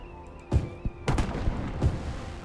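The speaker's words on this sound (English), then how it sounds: "There's the fireworks." Fireworks going off in a park-building video game, several sharp popping bursts spaced irregularly with a crackling tail, heard over a faint music bed.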